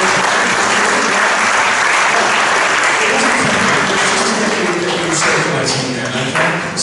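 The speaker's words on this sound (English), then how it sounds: "would you mind just clapping for a moment?" An audience at a gospel concert claps continuously, a loud, dense patter of many hands, with a few sharper taps standing out near the end.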